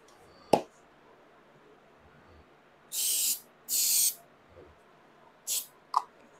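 CA glue activator sprayed onto a live edge wooden serving board in two short, sharp hissing bursts, then a quieter third, amid a few clicks and handling noises.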